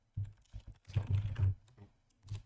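Short bursts of typing on a computer keyboard, a few quick soft clicks then a denser run of keystrokes, close and fairly quiet with gaps between.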